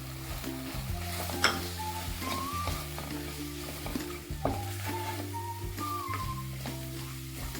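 Ground masala powder stirred into mutton fry in a pan, a steady close sizzle with repeated scraping strokes of a spoon and a few brief metallic clinks, no voices.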